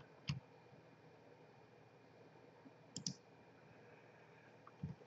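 A computer mouse clicks a few times, faint and close: isolated single clicks spaced seconds apart over a quiet room hiss.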